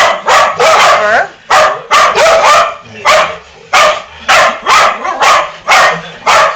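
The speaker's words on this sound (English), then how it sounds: "What are you barking at, Chopper?" A dog barks loudly and close in an agitated, steady series of about ten sharp barks, some slightly whiny, spaced roughly half a second apart and continuing without pause.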